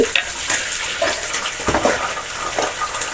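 Green chillies, dried red chillies, curry leaves and mint frying in hot oil for a Telangana-style poha tempering, a steady loud sizzle with crackling pops and occasional stirring, no voices.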